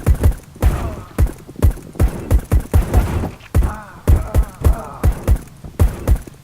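Rapid Desert Eagle pistol shots in CS:GO practice, a dense run of about fifteen loud, punchy reports at a quick, slightly uneven rhythm, with no voices.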